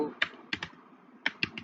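A handful of quick keystrokes on a computer keyboard typing a short web address, sharp clicks in small irregular bursts, close and fairly quiet with no talk.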